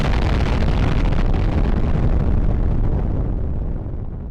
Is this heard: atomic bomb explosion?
yes